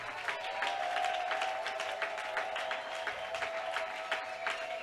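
A church congregation applauds during a worship service, a steady dense patter of many hands clapping that continues without pause throughout.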